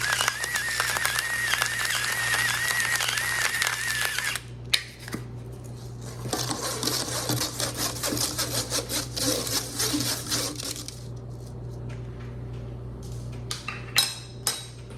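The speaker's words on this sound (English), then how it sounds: "now we're just going to sift in the 1 1/3 cup of flour with a 1 teaspoon of baking powder" Flour, baking powder and salt sifted for shortcake batter: a steady rasping, scratchy rub from the sifter that pauses briefly partway, then resumes with scattered clicks, close and fairly quiet, with no talk.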